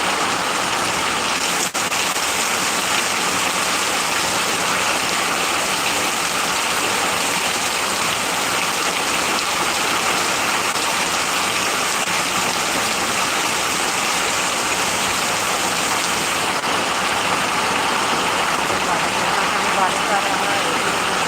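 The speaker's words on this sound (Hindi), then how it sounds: "बारिश आ रहा है।" Heavy monsoon-type rain pours steadily and loudly for the whole stretch, a dense unbroken hiss of water close by with no pauses.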